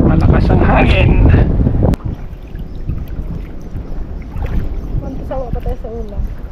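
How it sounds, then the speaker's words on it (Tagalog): Strong wind buffets the microphone with loud rumbling gusts that ease off partway, while people talk and water moves in the background. "Malakas ang hangin."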